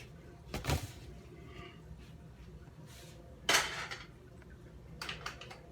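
A cooking pot with a little oil clanks and rattles as it is handled and set onto a home kitchen stove, with three sharp metallic knocks spaced a few seconds apart over a quiet background.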